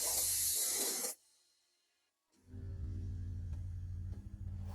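Anti-rust primer hisses from a spray gun onto restored KAMAZ military truck parts in two close bursts, a short hiss, then silence, then a longer, duller spray with faint rattling in the workshop.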